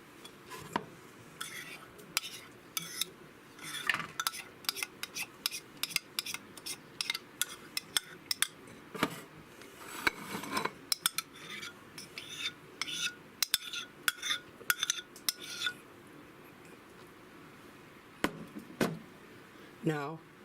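Dressing being mixed into a bowl of sliced cucumbers for a cucumber salad, with frequent close clinks and scrapes of a utensil against the bowl in an irregular rhythm over a quiet kitchen background.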